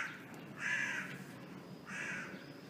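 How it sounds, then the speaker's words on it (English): Two loud, drawn-out crow caws, separated by a pause of about a second, standing out clearly over a low background hum. "Crows get attached to people very easily."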